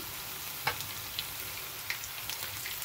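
Dried fish and shrimp frying in a pan give a quiet, steady sizzle, punctuated by a few soft pops and crackles.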